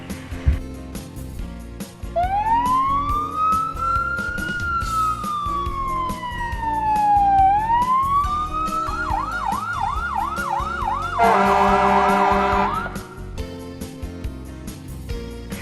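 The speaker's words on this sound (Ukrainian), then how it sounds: "Здогадалися, це пожежна машина." A fire engine siren rises and falls in one long slow wail, then breaks into a quick warbling yelp before a short, harsh blaring burst.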